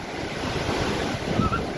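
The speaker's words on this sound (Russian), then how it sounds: "волночки классные." Storm waves break and surge along the Black Sea shore in Bulgaria, a loud, continuous roar of rushing surf mixed with heavy wind buffeting the microphone, with no talking.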